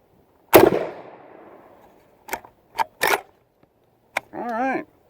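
A shotgun fired from a shooting bench with the action not held shut: one sharp, loud blast near 0.5 s with a long decaying tail, followed by a few metallic clicks and clacks of the action and a brief whine-like mechanical sound.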